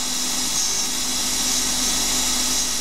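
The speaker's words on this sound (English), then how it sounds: "So we've drilled the hole deep enough for four of these washers, and we're just parting them off." CNC lathe parting off washers from drilled stock with a Kennametal 1.6 mm wide insert parting tool, giving a steady, loud machining whine with a constant low tone and bright high hiss throughout, no talk.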